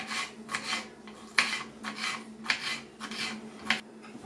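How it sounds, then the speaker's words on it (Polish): Knife rasping and tapping on a cutting board in quick irregular strokes as a yellow bell pepper is finely diced, fairly close and alone. "ja będę kroić żółtą paprykę na naprawdę bardzo drobniutką kostkę"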